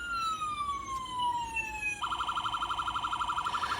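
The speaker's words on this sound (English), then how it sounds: "hit the siren here real quick" Siren on a diecast Ford Police Interceptor slicktop model, first a descending wail, then a rapid warbling yelp after a short switch, loud and close with a tinny electronic tone.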